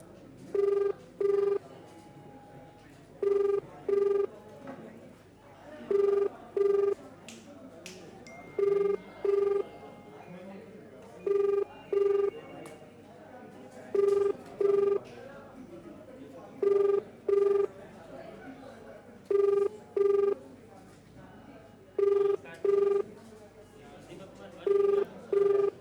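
An outgoing phone call to a police superintendent's number keeps ringing unanswered. Paired ringback tones repeat about every two and a half seconds, roughly ten cycles, over a faint background murmur.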